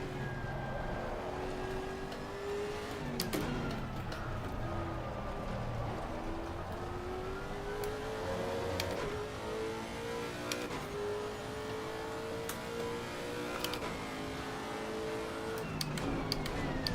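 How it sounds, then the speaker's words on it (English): A race car engine in Assetto Corsa Competizione on the Nordschleife hums along with rising and falling harmonic tones as revs climb and shift. Sharp clicks cut through at intervals, and the whole sound stays moderate and even. "How many RPMs is our car pulling right now?"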